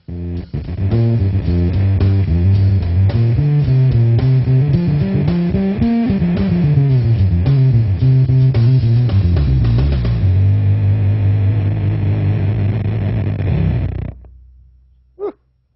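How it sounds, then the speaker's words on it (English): Electric guitar played through a Brown Dog fuzz pedal in hard mode with synthy drive, a thick buzzing distorted riff with shifting notes for about fourteen seconds, then a sudden cutoff and a brief final click. "I'm going to bring the fuzz level up, switch it into hard mode"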